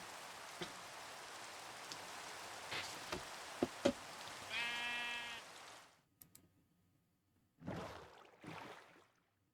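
Sheep bleat in short, wavering calls, one drawn-out bleat in the middle and two more later, over a background of steady rain patter that cuts off abruptly partway through, with a few sharp taps before it.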